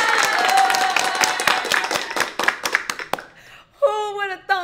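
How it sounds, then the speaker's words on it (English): An audience breaks into a round of applause, dense clapping that thins into a few scattered claps and stops, then a voice starts talking. "So wait, let's give that a round of applause."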